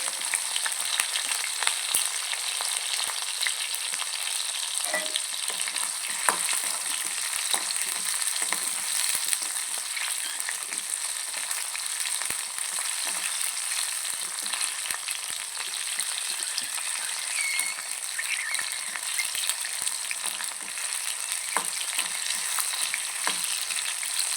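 Small onions, shallots, frying in a pan, a steady crackling sizzle dotted with tiny pops and light stirring scrapes, close and even for the whole stretch, with no voices.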